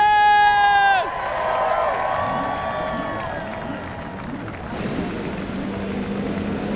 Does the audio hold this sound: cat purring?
no